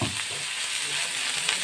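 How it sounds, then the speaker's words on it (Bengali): Chopped ginger frying in oil in a pan for a vegetarian paneer cutlet, a steady close sizzle with soft stirring scrapes running throughout. "আদাটা আমি এভাবে নেড়ে নিচ্ছি।"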